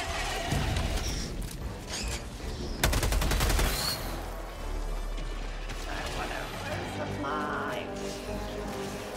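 Gunfire in the video game Helldivers 2, with a dense volley of shots and a loud crashing burst early on, then thinner scattered fire, while players talk over the action.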